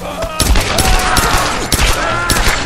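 Dense video game gunfire in Tomb Raider, a rapid volley of close, loud pistol and rifle shots with sharp cracks scattered across the clip amid chaotic combat noise.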